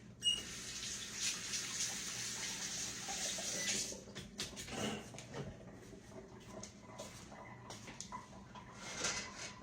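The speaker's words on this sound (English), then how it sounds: "Let me wash my hands now" Tap water runs into a kitchen sink as hands are washed beneath it, a steady close rush that cuts off partway through, followed by scattered drips, clatters and handling noises.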